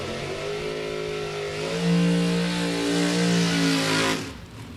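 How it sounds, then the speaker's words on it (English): A drag racing door car does a stout burnout out of the water box at a drag strip, its engine screaming loudly and rising in pitch before cutting off abruptly near the end. "Stout burnout there out of the water box for Zach Fulcher."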